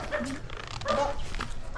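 A dog at an abandoned, flooded house barks and whimpers at a distance, a few short yips and whines in quick succession over low background noise.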